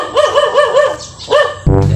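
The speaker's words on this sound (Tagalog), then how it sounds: "Uy, maraming aso." Several dogs barking loudly and close along a muddy road, a rapid run of rhythmic barks followed by a couple more, then a sudden burst of rumbling noise at the end.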